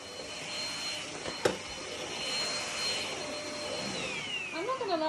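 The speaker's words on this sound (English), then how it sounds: "this is a nifty little Hoover. What's it called? I don't even know. Vitronics." A small Vitronics handheld vacuum cleaner runs close by with a steady, loud whirring hiss, a brief bump partway through and a shifting whine toward the end.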